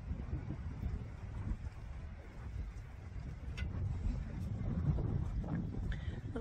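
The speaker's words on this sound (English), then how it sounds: "A little windy, a little bit of sleet." Steady low wind with sleet rumbles and buffets the microphone throughout, with a few faint clicks and knocks in the background.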